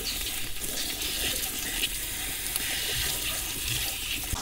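Tap water runs steadily into a sink while napa cabbage is washed leaf by leaf for water kimchi, a continuous close splashing hiss with no talk.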